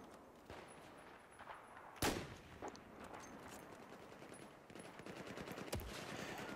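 Gunfire in the shooter game Battlefield 4: a sharp, loud shot lands near the two-second mark, with scattered fainter shots and a later burst over steady background noise of battle.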